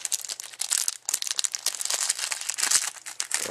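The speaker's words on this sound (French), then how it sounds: "On va déballer, sortir la télécommande de son plastique." Plastic wrapping crinkling and tearing close up as a remote control is unwrapped, a busy irregular series of crisp rustles and crackles, fairly quiet, with no talking.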